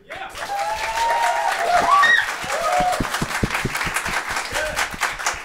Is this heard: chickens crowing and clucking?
no